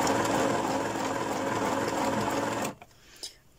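A sewing machine runs steadily and close, stitching tag shapes onto fabric pages, then stops abruptly, leaving a faint click and near-silence.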